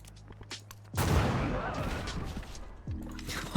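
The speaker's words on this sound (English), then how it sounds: "Field cannon, like so." A field cannon in the video game Civilization fires with one sudden loud boom that decays into a long rumbling wash of battle noise, with game music underneath.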